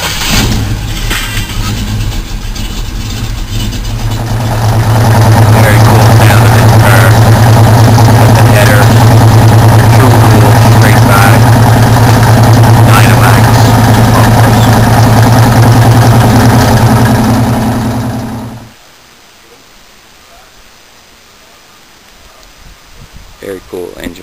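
A 1972 Ford Mustang Mach 1 with a 351 V8 starts up and settles into a loud, steady, rumbling idle for over ten seconds before shutting off, with someone talking near it.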